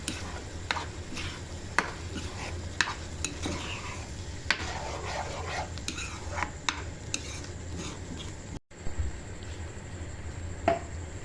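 Boiled macaroni is mixed into cream in a pan over low heat, making soft wet stirring and repeated spoon clicks against the metal, with a light sizzle beneath.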